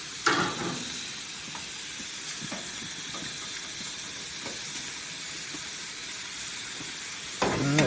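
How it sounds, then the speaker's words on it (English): Chicken searing on a Qwik-Char grill, a loud, steady hiss and sizzle with scattered pops and crackles, close up and continuous, with a brief rustle at the start and end. "Let this sear up."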